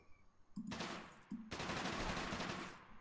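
Japanese submachine gun in Men of War: Assault Squad 2 fires two loud sustained bursts, a short one followed by a longer rattling burst, each opening with a brief mechanical clack.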